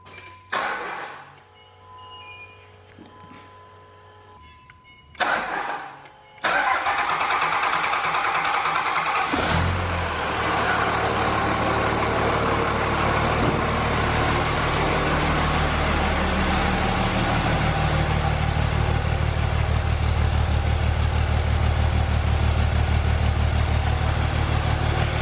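A 2004.5 Cummins diesel truck engine fitted with a new Fleece 10mm CP3 pump is heard inside a shop: brief cranking bursts, then it fires and settles into a loud, steady, rumbling idle that runs continuously to the end.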